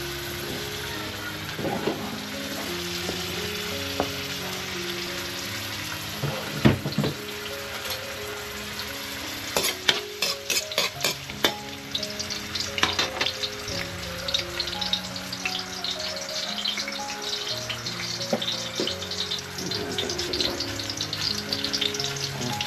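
Food fries in oil in a kawali pan, giving a steady sizzle throughout, with scattered sharp crackles and pops that thicken near the middle; faint talk drifts in now and then.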